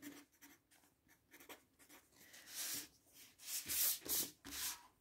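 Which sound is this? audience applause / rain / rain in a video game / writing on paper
writing on paper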